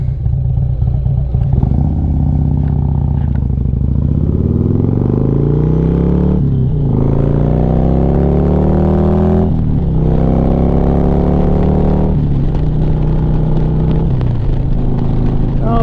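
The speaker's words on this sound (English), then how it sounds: "now I got a Tropicana truck going through" A Tropicana truck drives past close by on the road, its engine rumbling loud and steady while the pitch climbs through several gear changes.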